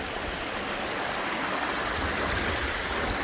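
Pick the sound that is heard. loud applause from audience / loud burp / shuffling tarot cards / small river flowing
small river flowing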